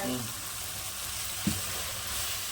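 Chili powder sautéing in hot oil in a pan, giving a steady, fairly loud sizzle throughout with one brief soft knock in the middle.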